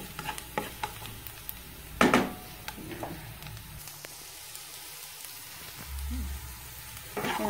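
Pork sautés with garlic and onion in a pan, a continuous close sizzle broken by loud stirring clanks and scrapes, with a louder burst of frying partway through.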